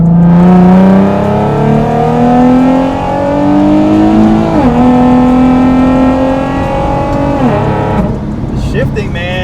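Supercharged automatic Nissan 370Z engine pulling hard through the gears, its rising drone broken by quick shift dips at steady intervals, loud and close from inside the car, with a person talking briefly over it.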